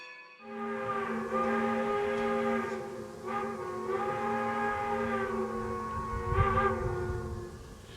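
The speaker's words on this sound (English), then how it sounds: "Locomotive 40, blowing her whistle here, rolling through the original yard as she has been since 1910." Nevada Northern Railway steam Locomotive 40, built 1910, sounds its whistle in long, loud chime blasts with a short break between, ringing out in the rail yard with faint chuffing underneath.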